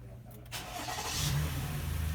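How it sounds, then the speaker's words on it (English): A 2017 Toyota Highlander engine cranks by remote start with no one inside, a short starter churn rising into a steady low engine rumble that builds and holds, close by. "the engine cranks."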